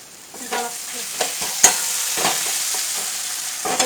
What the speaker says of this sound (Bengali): বাঁধাকপিটা বসিয়েছি, পেঁয়াজ আদা রসুন কষছি